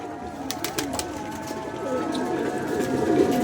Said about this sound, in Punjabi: ਉਹ ਕਬੂਤਰ ਹੈ ਉਹ ਗੁੜਕਦਾ ਪਿਆ ਉਹ ਜਿਹੜਾ ਉਹ ਪੱਟੀ ਤੇ ਬੈ ਕੇ